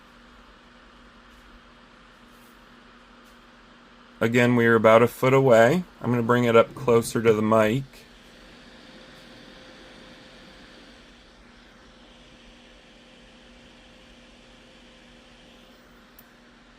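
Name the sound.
cooling fan of ULANZI LM-P40RGB studio light at full speed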